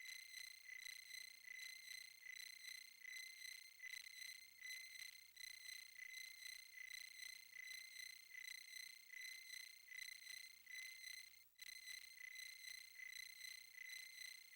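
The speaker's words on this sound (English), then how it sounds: "The cricket sound effects are pretty well realized." Video game crickets chirp in a fast, steady, high-pitched pulsing pattern that repeats evenly throughout, with one brief dropout partway, heard clearly with no talking.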